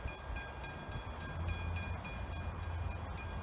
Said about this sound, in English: This, like every other train, is a Belgrave service.